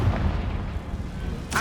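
A Confringo blasting spell explodes in Hogwarts Legacy, a thudding low boom under ambient game noise followed by a bright burst near the end.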